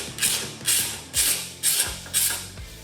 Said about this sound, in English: Take the bolts out of the ECM caddy. Take the bolts that hold the tongue of the gas tank in place.